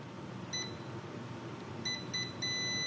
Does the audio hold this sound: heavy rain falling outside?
no